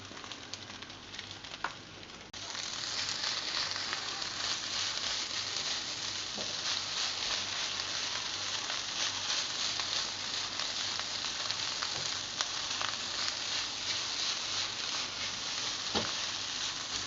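Rice stir-fried with green onions in a pan gives a steady, close frying sizzle that rises sharply after a short quieter opening, with occasional scrapes and taps of stirring, and no talking.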